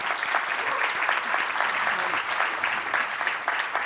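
An audience claps at a university forum on regional public universities, a dense, steady wash of applause filling the room throughout.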